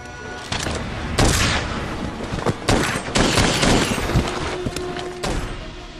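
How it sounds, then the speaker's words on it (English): Rapid bursts of light bowgun fire in Monster Hunter World, sharp cracking shots and thumping impacts in quick irregular volleys, loud and close with no talking. "The light bowgun is all about staying on the move, laying down fire, and setting up traps in the monster's predicted path."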